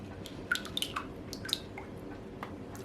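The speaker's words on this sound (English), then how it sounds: "I just like to stir the last little bit." Melted shea butter being stirred in a container while making an emulsified body polish, giving soft wet clicks and drips scattered irregularly over a few seconds, close and quiet.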